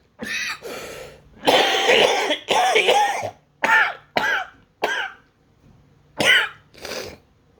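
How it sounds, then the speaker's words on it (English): Repeated coughing in short bursts, some in quick pairs and clusters separated by brief pauses, close and fairly loud, with no talking. "I still have a cough"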